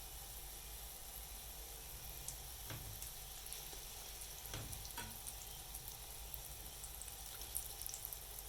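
Breakfast mixture frying in cooking oil in a pot gives a steady, moderately quiet sizzle with a few soft clicks and pops, continuous throughout.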